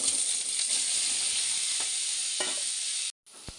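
Paneer pieces fry in hot oil in a pan, a loud steady sizzle running close and unbroken for about three seconds, then cutting out briefly before resuming with a small clack.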